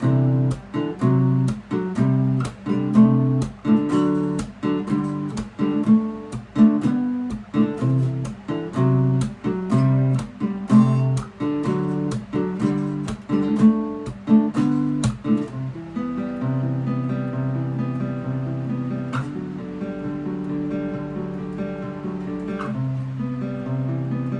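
Guitar strummed in a steady, rhythmic pattern of strong repeated chords, then shifting to a sparser, sustained section with ringing notes.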